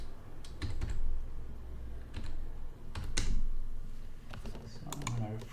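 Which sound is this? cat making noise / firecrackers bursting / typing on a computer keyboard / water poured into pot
typing on a computer keyboard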